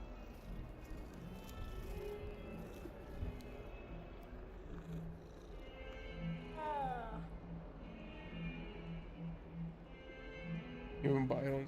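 A cat in the Hogwarts Legacy video game gives a short, rising meow mid-scene, with soft purring and game ambience underneath while people talk over it.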